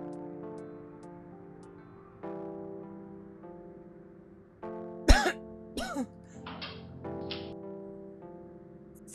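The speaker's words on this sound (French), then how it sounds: "Oui, j'étais en train de tousser." A woman coughs in a quick pair of harsh bursts partway through, followed by a few fainter throat sounds, over a steady low musical drone in an indoor scene.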